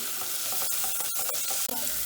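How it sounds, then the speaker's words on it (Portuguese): Coxinha filling sizzles and fries in a Teflon pan, a dense, continuous crackling hiss with occasional scraping stirs, close and steady with no talking. "Agora nós vamos deixar fritando um pouquinho."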